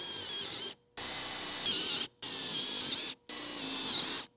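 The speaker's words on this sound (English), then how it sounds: "I'm gonna use my Forstner bit because it's gonna give me a little bit cleaner line" A high-pitched power drill with a Forstner bit whines through three long bursts of boring holes in a van wall panel, each cutting off abruptly with short pauses between, close and loud.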